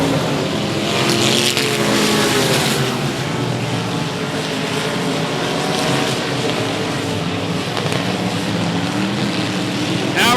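Race cars roar around the 105 Speedway oval during a regular race program, a loud, continuous engine drone with rising and falling passes, close and dense throughout.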